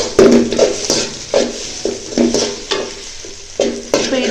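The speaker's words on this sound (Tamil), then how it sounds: "முட்டையை மட்டும் கிண்டிக்குங்க" Egg being stirred in a hot frying pan for egg noodles, with repeated scraping strokes of a spatula against the pan over a steady close sizzle, no talking.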